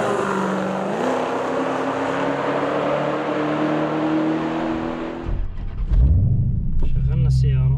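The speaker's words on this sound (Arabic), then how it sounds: "شغلنا السيارة." A Dodge Challenger Hellcat engine starting: a steady rumbling idle gives way to a sudden loud surge as it fires and revs, heard close up.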